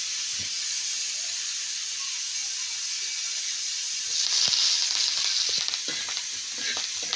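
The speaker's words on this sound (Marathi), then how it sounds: "आजीने खोबरं आणि धनं टाकलेलं आहे चांगलं परतून द्यायचं लाल ओढणीपर्यंत" Grated coconut and coriander seeds roast in a pan on a wood stove with a steady close sizzle and hiss, swelling louder midway, with light scraping clicks from stirring.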